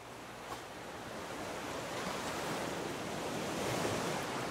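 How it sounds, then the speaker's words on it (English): Ocean waves wash steadily around a small raft in the Raft survival video game, a continuous even surf roar that swells slightly toward the end, with no talking. "The waves are so big."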